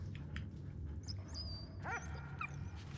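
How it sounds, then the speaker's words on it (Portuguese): A dog in the video game Valiant Hearts: The Great War gives a few high whimpers and yips over a steady low game background, short whining notes clustered near the middle. "Olha o nosso cachorro aí."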